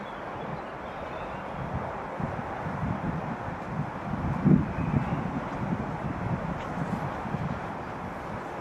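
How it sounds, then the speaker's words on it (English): Breezy wind blowing through a bluebell wood, a steady low rumbling buffet with gusts swelling midway, alone without voices. "It's a little bit breezy here, but nothing too dramatic."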